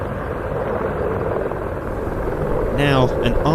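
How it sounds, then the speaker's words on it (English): An Army Air Corps Apache AH-2 helicopter lifts off at an air show, its steady rotor and engine rumble running throughout at moderate distance, while a voice talks over it toward the end. "Now, an Army Air Corps Apache AH-2 is taking to the air."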